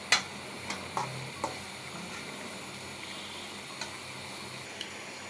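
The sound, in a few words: sautéing hilsa fish with vegetable stalks and potatoes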